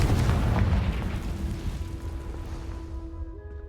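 A deep booming blast from the Confringo fire spell in the Hogwarts Legacy video game rumbles loudly at the start and slowly fades, with a faint sustained tone lingering underneath, no voices heard.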